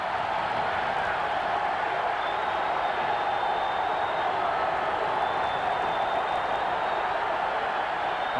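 A big stadium crowd roars continuously at the 1985 Alabama at Georgia college football game, a dense, steady wall of cheering and noise that holds for the whole stretch without a break.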